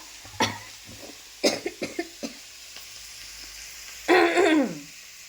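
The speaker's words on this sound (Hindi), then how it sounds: "सॉरी, मैं खांसी है मेरे को थोड़ा सा।" A few short coughs close by, followed by a longer raspy throat-clearing cough; quiet between bursts.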